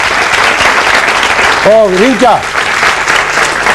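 A studio audience applauds on a 1992 Icelandic Christmas television show, a dense, steady wash of clapping that fills the whole moment while a voice speaks and briefly sings over it.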